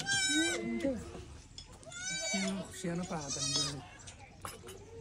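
A goat that has just given birth bleats repeatedly in a series of wavering, nasal cries, loud and close, while people talk nearby on a Nepali family farm.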